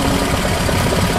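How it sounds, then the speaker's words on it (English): A boat engine runs steadily after its throttle valve was readjusted, giving a loud, continuous low rumble with a slight knocking texture and no voices. "The engine starts, which is a good news, but it's still overheat after 30 minutes or so."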